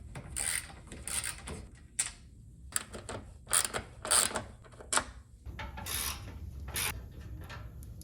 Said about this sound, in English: To remove the headlights, we need to first remove these three 10mm bolts.